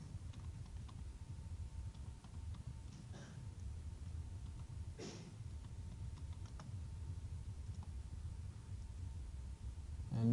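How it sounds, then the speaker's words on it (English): Faint, steady keyboard typing as figures are entered into a spreadsheet, soft irregular key taps running throughout under a low room hum, with no talking. "And we'll type in these amounts."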